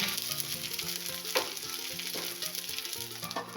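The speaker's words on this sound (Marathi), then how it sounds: "आता ठेचा आपण दोन तीन मिनिटासाठी झाकण ठेवून वाफवून घेऊ" Thecha made with fresh green pigeon peas steams under a lid on low heat, with a soft, steady sizzle and faint crackles over a low tonal hum in the background.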